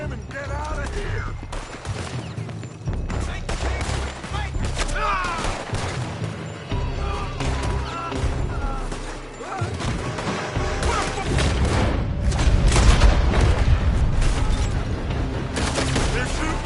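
Gunfire in Red Dead Redemption 2 comes from a building, a dense barrage of rapid shots and booms that carries on throughout, with shouting voices mixed in.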